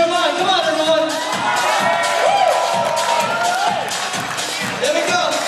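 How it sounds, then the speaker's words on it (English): Wedding guests cheering and whooping together, a lively crowd with overlapping voices and shouts, loud and sustained with some clapping mixed in. "Let's cheer him on."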